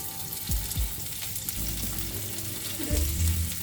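Chopped ingredients hitting a hot pan and frying, a steady close sizzle with a few sharp bursts near the start and a louder surge toward the end, no voices.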